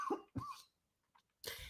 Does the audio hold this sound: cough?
yes